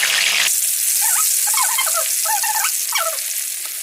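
Rohu fish pieces frying in hot oil in a pan, a steady sizzling hiss with small crackling pops and bubbling bursts, fairly close and continuous throughout.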